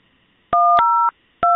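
Telephone keypad tones keyed in to enter a voicemail ID on a FreeSWITCH PBX: two crisp, loud DTMF beeps, then a short higher tone, then another beep starting after a brief pause.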